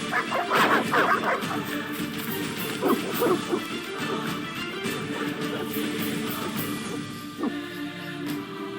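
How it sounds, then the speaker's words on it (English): Hostile dogs bark and snarl in The Witcher: Enhanced Edition, with repeated close, loud barks. Crashing impacts and a low hum sit underneath throughout. "They're evil dogs."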